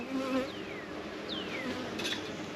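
Honey bees buzz at an open hive being worked during a nectar flow, a steady close drone with individual bees zipping past, their pitch sweeping as they fly by.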